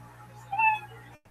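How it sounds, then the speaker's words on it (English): A short, thin kitten meow used as a sound effect to end a timed minute, a single rising cry over a low steady hum, then a sudden cut. "you know your minute's up when you hear the sound of a kitty."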